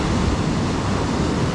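Ocean waves wash onto the beach at Pantai Bakung in Pacitan as a steady, broadband roar, close and continuous.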